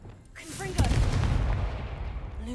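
A Confringo blasting curse goes off in Hogwarts Legacy as a sudden loud boom that rolls into a long rumbling burst of debris, preceded by faint magical whooshes and chirps.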